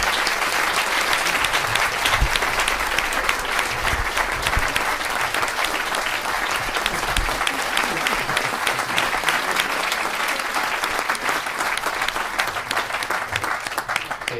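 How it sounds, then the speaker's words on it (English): Long, steady applause from an audience at an award presentation during a family gathering, dense and even for about fifteen seconds with little variation. "let's give her a massive round of applause"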